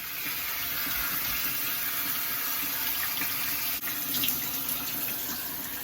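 Steady running water from a shower or tap rinses hair dye out of hair, a continuous close hiss with slight splashing changes and no talk.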